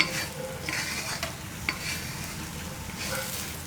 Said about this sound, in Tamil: லேசாக அப்படியே கிளக்கி விட்டுக்குங்க